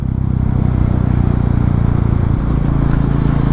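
A Royal Enfield Meteor 350 with its catalytic converter removed, idling close by with a steady, even low thump from the exhaust, alone.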